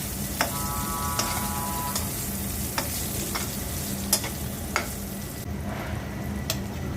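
Pointed gourd slices frying in a pan, with a steady sizzle of hot oil under sharp, intermittent clicks of a utensil stirring against the pan, with no talking.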